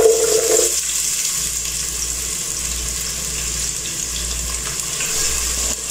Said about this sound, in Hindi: प्याज फ्राई हो रहा है हमारा